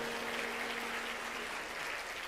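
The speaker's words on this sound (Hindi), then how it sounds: "आपने तालियां कुछ ज्यादा विशेष बजा दी हैं" Applause from a devotional gathering during a spiritual discourse on the new-moon day, a steady, moderately loud clapping with a faint sustained tone beneath it.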